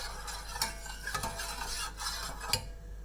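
A spoon stirs a dessert mixture with vanilla extract in a pan, giving soft scraping strokes and a few light metallic clinks over a faint simmering hiss, fairly quiet and close.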